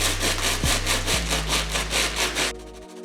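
A cleaning brush scrubs the herringbone-traction rubber sole of a Jordan 4 Bred sneaker in fast, steady back-and-forth strokes, close and loud, ending abruptly after a few seconds with no talking.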